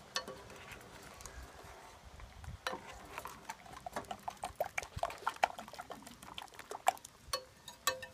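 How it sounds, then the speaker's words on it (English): Silver chloride solution is stirred during refining of cobalt silver ore, giving quiet swishing broken by a quickening run of sharp clicks and taps against the vessel, with no voices. "And give it a stir"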